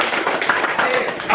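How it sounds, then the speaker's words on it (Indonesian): Brief burst of classroom clapping for a student named Krisna, a dense patter of many small hands close by, with a teacher's voice mixed in. "Tepuk tangan Krisna"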